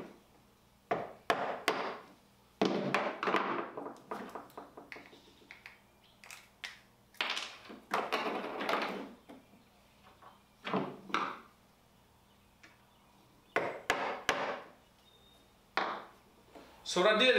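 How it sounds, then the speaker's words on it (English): A hammer knocks a small center punch out of a wooden barn-door nightstand part in a workshop, giving sharp, close wooden knocks in short clustered bursts separated by pauses. "you'll need to go back and knock this little center punch out"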